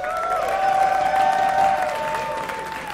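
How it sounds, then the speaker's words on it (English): A live crowd cheers and applauds loudly at an esports match between CLG.eu and Curse in the Lone Star Clash 2 upper-bracket semifinal, a steady roar over sustained music tones. "give us a cheer."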